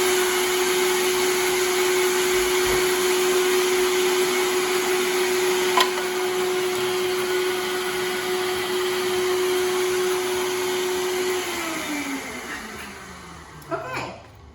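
A kitchen blender whirs steadily while blending salsa verde for chicken Caesar tostadas, a loud constant motor drone that runs for about eleven seconds, then winds down and stops, with faint clatter at the end.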